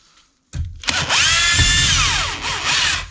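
After a brief quiet moment, a power drill whines up loudly and grinds steadily into a wall for a few seconds, close by.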